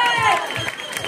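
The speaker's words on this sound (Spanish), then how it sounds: "un fuerte aplauso para estas niñas maravillosas" A concert crowd applauds and cheers for a group of girls after their dance; the clapping and shouts are dense and steady for about a second.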